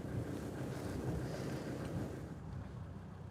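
Wind buffets the microphone outdoors on the Cape of South Africa in a steady low rumble with a hiss of air, continuous and fairly loud, easing slightly near the end.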